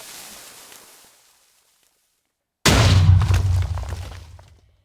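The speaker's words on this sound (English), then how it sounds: "I press the button, and some loud explosion" A TNT cannon goes off in Minecraft, first a fading rumble, then after a short silence a sudden loud, deep boom that rolls on for about two seconds before dying away.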